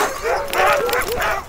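Excited sled dogs just before a dog sled ride in snowy mountain terrain, with loud, close yips and barks in a quick eager burst lasting about a second and a half.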